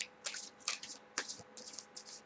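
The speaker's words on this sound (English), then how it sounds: "Let me shuffle these one more time and see what we can pull out" Tarot cards are shuffled by hand in several quick riffling bursts, crisp and close, separated by short pauses in a quiet room.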